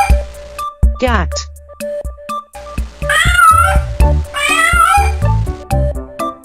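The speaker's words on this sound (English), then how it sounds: "Cat." A cat meows two or three times, the calls clear and wavering, set against playful music with clinking, bell-like taps.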